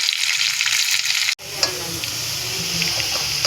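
Capsicum, green chilli and ginger-garlic paste fry in a hot pan for veg manchurian, a bright steady sizzle that briefly cuts out, then resumes louder and fuller as ingredients go in, with a faint stir.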